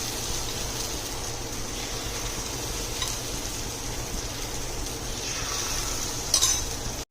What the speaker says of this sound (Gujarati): હવે આપણે અપમ સ્ટેન્ડમાં થોડું થોડું બેટરને પાથરશું ગેસની ફ્લેમને ધીમી કરી દેવાની છે